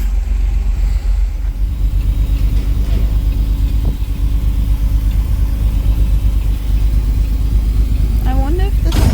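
A 1938 SS Jaguar 3½ drophead with its engine running, a steady low rumbling idle close by, with people talking over it throughout.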